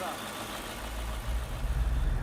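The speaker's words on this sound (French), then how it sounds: "Le rugissement des moteurs" 1300-horsepower airport tug, a low, heavy engine rumble that swells and grows louder toward the end, with someone speaking over it.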